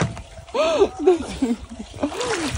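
Water splashes at a river in uneven bursts, close and lively, while people shout and talk over it.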